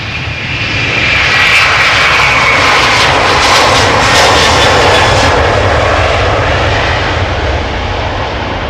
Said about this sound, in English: Going to St. Maarten, KLM flight 787, A330-200, 17 years old